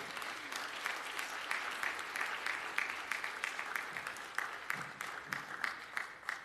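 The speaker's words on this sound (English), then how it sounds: "Let us give the Lord a round of applause just for our very being here." A church congregation claps steadily and warmly throughout a Sunday service, a dense, sustained round of applause that fills the room without letting up.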